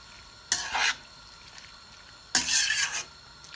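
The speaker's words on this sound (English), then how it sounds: "stirring constantly in between so that it doesn't get burnt at the bottom. So we're going to mix it." A spoon stirs butter chicken in a cooking pot, giving two separate bursts of scraping and sizzling, each under a second long, with quiet stretches between them.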